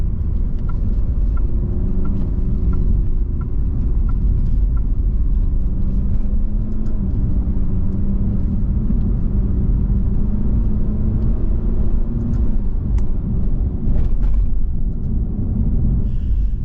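Alfa Romeo Giulia Veloce driving on small country roads, heard from inside the cabin as a loud, steady engine rumble and road noise that rises and falls slightly with the throttle, with no talk.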